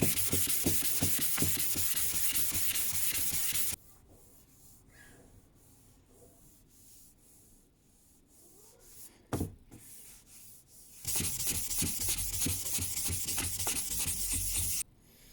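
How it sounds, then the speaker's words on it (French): Hand sanding of body filler on a Toyota Starlet spoiler repair: steady close rasping strokes for several seconds, a quiet pause, then brisk scrubbing resumes. "Donc, je vais poncer ça."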